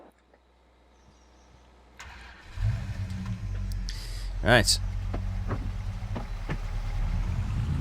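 A tractor engine in Farming Simulator 22 cranks and catches, then settles into a steady mid-pitched running rumble as it pulls away. One brief word is spoken over the start.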